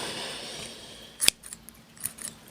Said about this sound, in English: Oh, blunt scissors.